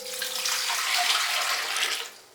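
Warm water pours steadily into a bowl for dissolving yeast while making French bread, a close, continuous splashing stream that tapers off at the end.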